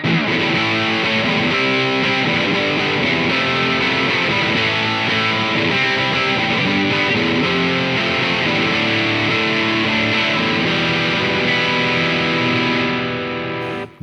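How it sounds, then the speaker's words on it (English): Electric guitar played through a Fulltone GT500 distortion pedal into an already dirty amp, a dense, loud, continuous wall of saturated chords that rings out steadily for about fourteen seconds before cutting off at the end. "Remember, that's a distortion pedal into an already dirty amp."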